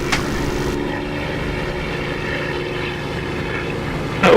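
Propeller roar of a damaged Spitfire coming in to land in the DCS flight simulator, a steady, loud, continuous engine drone throughout with a brief swell at the end.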